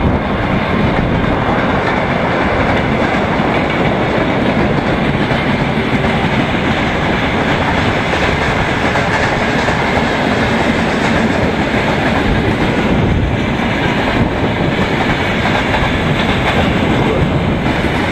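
New train cars rolling past close by during a bike ride, a loud, continuous rumble with steady clickety-clack from the wheels on the rails, lasting the whole stretch with no voices.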